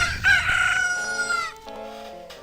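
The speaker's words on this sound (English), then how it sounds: "all of those chicks now become roosters" Roosters in the Majora's Mask video game let out a loud, close cock-a-doodle-doo crow, followed by a second, fainter crow trailing off.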